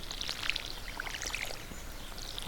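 A watering can pours over crops in the Stardew Valley video game, a bright splashing trickle with scattered droplet pings over a steady hiss, fairly quiet and continuous.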